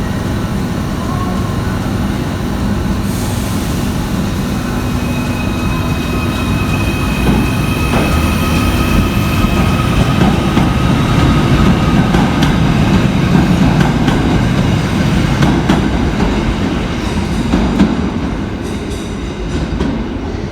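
Merseyrail electric train on the Ellesmere Port to Liverpool Central service departing a station, a loud continuous rumble of wheels on track with clicking rail joints and occasional squealing, rising and sustained throughout.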